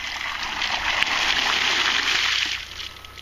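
Water gushes steadily from a hand-operated emergency well pump, a close, loud splashing stream that runs for a few seconds before easing off.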